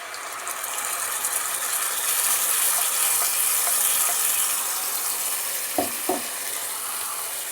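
Ground spice paste hitting browned onions in a hot pan gives a continuous, loud sizzling hiss, with two quick utensil clicks near the end.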